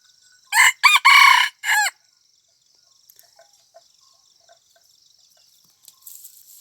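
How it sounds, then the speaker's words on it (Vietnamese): Young F2 jungle fowl rooster crowing close by: one sharp, strident crow broken into several quick segments, followed by quiet background with faint clicks and light rustling. "Đây là con gà tơ"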